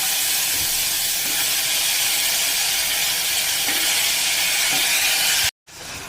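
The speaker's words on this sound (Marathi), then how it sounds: "आता आपण जो भोपळा धुवून घेतलेला आहे तो भोपळा आपण याच्यामध्ये घालून घेऊया" Washed red pumpkin pieces dropped into masala frying with turmeric in a pan set off a loud, steady hissing sizzle that holds nearly unbroken, then cuts out briefly and resumes at the end.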